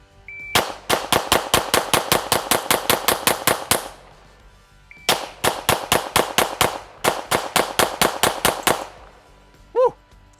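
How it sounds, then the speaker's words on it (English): Rapid pistol fire from the Alien, a gas-operated handgun, in three long fast strings of loud, sharp shots with short pauses between them, close and with no voices. "we just blew through 4 fully loaded magazines"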